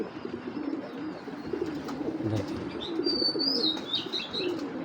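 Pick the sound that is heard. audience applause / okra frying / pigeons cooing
pigeons cooing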